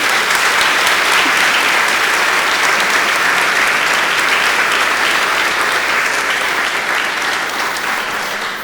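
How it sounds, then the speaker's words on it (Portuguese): An audience at a formal municipal council session in Arujá gives loud, sustained applause, a dense and even roar of many clapping hands that fades slightly near the end. "eu peço a calorosa salva de palmas"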